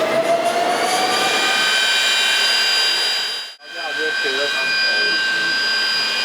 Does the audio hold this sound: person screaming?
no